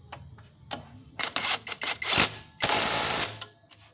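A ratchet wrench tightening a nut on a Honda Scoopy scooter: rapid clicking bursts and short ratcheting runs, close and moderately loud, with brief pauses between strokes.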